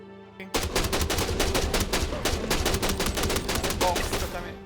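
Rapid volleys of gunfire in a video game, a dense run of sharp repeated shots that starts abruptly after a brief quiet and continues steadily before tapering off.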